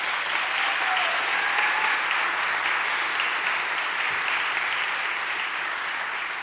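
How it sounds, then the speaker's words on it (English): Sustained applause from a school audience at a high school choral spring concert, steady dense clapping filling the hall without a break and no talk over it. "let's give them another round of"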